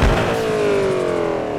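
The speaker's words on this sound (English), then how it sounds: "It's a very loud idle." A loud video game car engine idling nearby in Drift21, a throaty continuous rumble with a faint whine drifting slowly downward.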